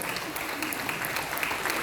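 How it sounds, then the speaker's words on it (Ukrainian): An audience at a folklore festival claps in steady, sustained applause that fills the short moment with dense, even noise. "Ваші аплодисменти."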